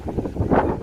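Wind gusts outdoors around a house, with dry bodhi-tree leaves rustling; a steady, moderately loud rushing that swells toward the end, with no talk.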